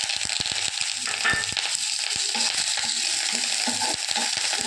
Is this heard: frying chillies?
yes